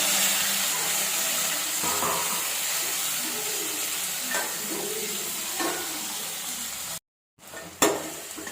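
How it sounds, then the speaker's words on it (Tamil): Tomato frying with onion and curry leaves in a pan, a steady close hiss of sizzling with occasional stirring scrapes and a short clatter near the end. "ஒரு தக்காளி வதக்கி வச்சுருக்கேன். இது போட்டு நல்லா வதக்கிக்கலாம்."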